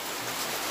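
Rain pours steadily outdoors in Riau, a dense even hiss of falling water that is moderately loud and uninterrupted, with no voices.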